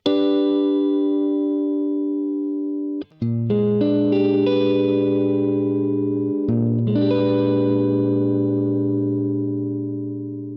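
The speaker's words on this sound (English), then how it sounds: "if we move that triad to its next inversion, which you may recognise as the D shape, we can play a different voicing of the flat 9 chord" Electric guitar through effects, with chorus and echo, strums a flat 9 chord voicing built from the D shape in three sustained, ringing hits with short breaks between them.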